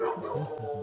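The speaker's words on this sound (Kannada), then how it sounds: "ಇದು ಯಾವುದೋ ಒಂದು ನಾಯಿ ಬೇರೆ ಇದೆ" A dog gives a brief burst of faint barks and yips, distant and short, with no clear talk over it.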